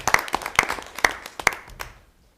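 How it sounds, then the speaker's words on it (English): Sparse, fading applause comes from a few people at a board of education meeting, a handful of distinct claps that thin out and stop after about two seconds, leaving near silence. "I think they're due a round of applause by everybody that got to watch this video."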